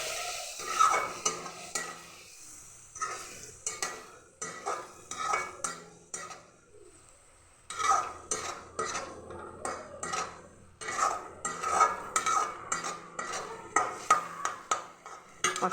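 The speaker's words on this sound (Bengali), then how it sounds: "দিয়ে আমি মশলাটাকে ভালো করে কষিয়ে নেব।" Spice paste with a splash of water being stirred and fried in a pan for a chicken liver dish, a steady run of rhythmic metal spatula scrapes and clinks over a gentle sizzle, close, with a brief lull midway and no voices.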